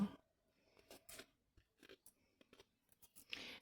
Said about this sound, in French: Je prends une paire de ciseaux, je coupe ce qui est en trop.